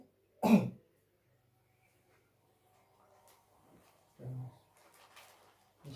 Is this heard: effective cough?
yes